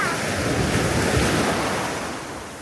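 Strong wind and sea waves on a beach at Laem Sadet – Chao Lao in Chanthaburi after rain, a loud rushing surf with wind buffeting the microphone, swelling and then easing slightly toward the end.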